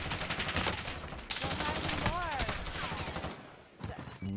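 Rapid gunfire rattles through a Warzone video game match, dense and steady for most of the moment before easing off near the end.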